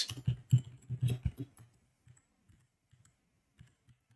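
Quick bursts of typing on a computer keyboard while coding a web app, dense clicking for a second and a half, then sparse single key taps, close and fairly quiet.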